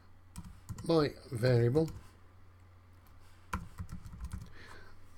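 Computer keyboard typing while writing code, a few clustered keystrokes late in the clip after someone speaks briefly over a low steady hum.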